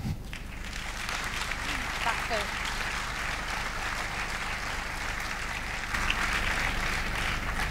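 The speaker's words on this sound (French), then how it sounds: "Je vous demande de faire un tonnerre d'applaudissements à Maya." Dense, steady applause from a conference audience at a French business talk, a continuous wash of many hands clapping at moderate loudness for the whole stretch, with no single voice standing out.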